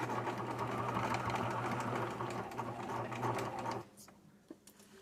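A sewing machine runs in reverse, stitching across a seam on a pair of jeans with a fast, steady mechanical whir for nearly four seconds before stopping, leaving a few small clicks behind.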